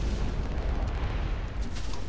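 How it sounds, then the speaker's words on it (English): Sustained Vulcan gun fire from a Bruiser medium mech in the game Hawken, a dense continuous rapid roar with heavy low-end rumble running steadily for about two seconds, loud and close with no voices. "going full fire with the Vulcan"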